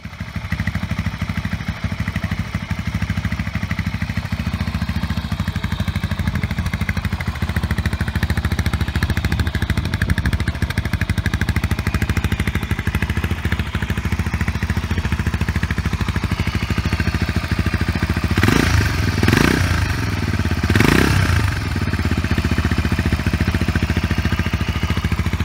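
Fuel-injected Jawa 350 OHC motorcycle's 397 cc, 27 hp single-cylinder engine running steadily with a chugging, clattery drone, louder revving bursts near the end.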